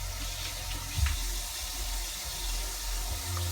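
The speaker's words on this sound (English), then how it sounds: "Wash my hands again." Water running steadily from a kitchen tap during handwashing, a continuous close rush with a brief splash and slight shifts in flow, no talk.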